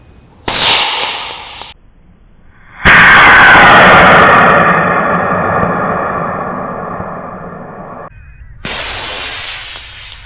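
An Apogee Aspire model rocket lifting off on an Apogee Medalist E6 motor: a sharp ignition burst, then a loud, close, roaring thrust that fades slowly over about five seconds before cutting off, followed by a brief hiss.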